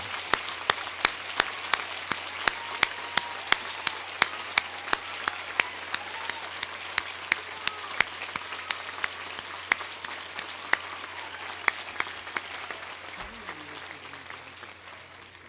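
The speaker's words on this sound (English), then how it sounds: "please join me in a round of applause" Sustained audience applause at a fall graduation ceremony, honoring faculty and staff: dense steady clapping from a large crowd with sharp individual claps standing out, holding for the full span and fading slightly at the end.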